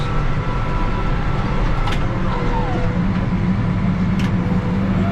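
A farm harvesting machine with cutting blades runs steadily in a field beside a stream, giving a loud, constant engine and machinery rumble with faint clanks throughout.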